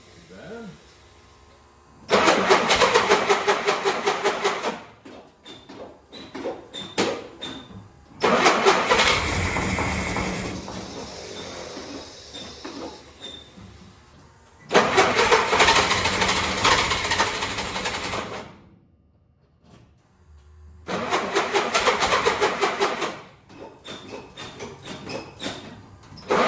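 Rebuilt Flatfender Jeep engine running on full choke, loud bursts of rough running that cut out and restart several times, with quieter gaps between the runs.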